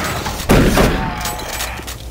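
Shotgun blasts echo in Doom 3 during a co-op boss fight, with a loud booming shot followed by a second heavy report and rumbling tails, close and forceful with no talking over them.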